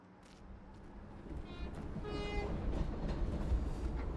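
Train horn sounds in a video game as a train rolls nearer, a few blaring tonal blasts over a steadily building rumble of wheels, loud and close, with no talking.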